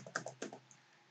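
A short burst of keystrokes on a computer keyboard while Arduino code is typed: about six quick, crisp clicks, close and clear, followed by a faint hum.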